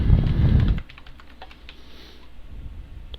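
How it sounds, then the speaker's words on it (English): Password typed on a computer keyboard as a quick run of light, close key clicks after a brief burst of louder low noise at the start. "you just type in your password here"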